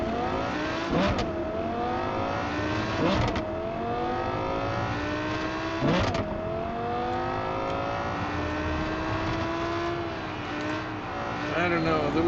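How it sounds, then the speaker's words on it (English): Video game car engine and transmission sounds: a whining, revving motor climbs repeatedly through gears, each rising pitch sweep cut off by a sharp shift, continuous and close throughout. "those engine and transmission noises."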